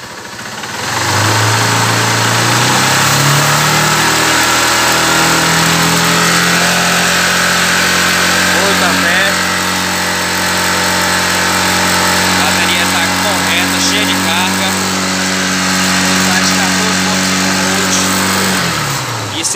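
A Honda CG 150 Sport motorcycle engine idles steadily to warm up, a continuous close mechanical hum with slight pitch shifts early on, running the whole time.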